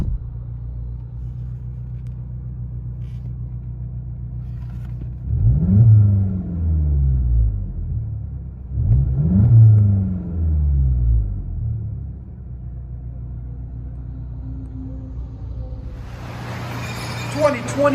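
A 2021 VW GLI with a 2.0 turbo engine and straight-pipe exhaust, heard from inside the cabin: a low droning rumble with two rising rev swells, then a rougher burst near the end.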